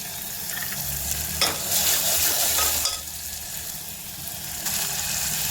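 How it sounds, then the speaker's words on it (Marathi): Mutton and masala paste sauté in a pan for dry mutton, a close sizzle rising as the pieces are stirred. A louder frying burst in the middle settles back into a steady hiss. "त्याला छान मस्त परतून घ्यायचं पूर्ण टाकून देतो आपण"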